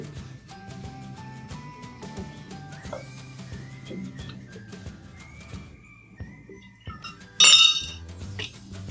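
A spoon clinks against a glass while stirring apple cider vinegar, sounding as a burst of bright, rapid clinks late on, close and loud, after quieter kitchen tones and soft whistling notes.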